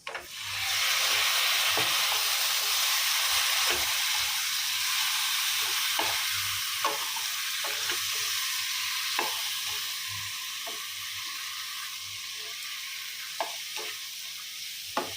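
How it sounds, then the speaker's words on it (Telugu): Chopped tomatoes go into a pan of hot oil and chili powder for tomato rice, frying with a steady broad sizzle close by and occasional sharp clicks of a spoon stirring, with no talk. "కారం మాడిపోకముందే, నల్లగా అయిపోకముందే మనము తరిగి పెట్టుకున్న టమాటోల్ని వేసేసుకుంటున్నాం దీంట్లో"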